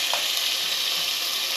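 Spices sizzle and fry in a hot pot while being prepared for coffee, a loud, steady hiss that runs close and unbroken, with no voices.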